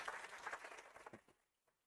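A conference audience applauds a panel of three speakers: brief, fairly faint clapping that fades out after about a second and a half.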